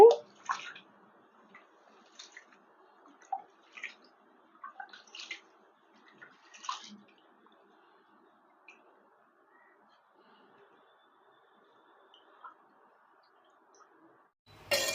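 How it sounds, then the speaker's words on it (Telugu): Rice being washed in water, with scattered soft splashes and swishing in a quiet room, several brief bursts early on and then long near-silence. "రైస్ శుభ్రంగా రెండు మూడు సార్లు కడుక్కోవాలండి"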